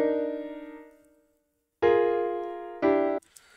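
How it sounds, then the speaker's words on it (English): Dry piano notes ring out one at a time, each decaying quickly into silence with no lingering echo; three separate strikes with gaps between. "without that effect,"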